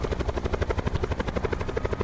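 A helicopter in the video game Blackout thumps with rapid, steady rotor beats, loud and close, with no talking over it.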